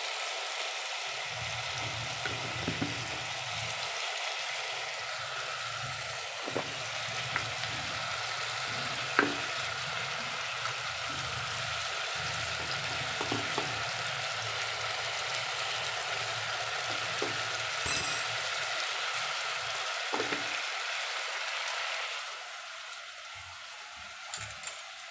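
Green chillies sizzle softly in a hot pan, a steady quiet frying hiss broken by occasional scrapes and clicks of stirring, close by, fading out near the end.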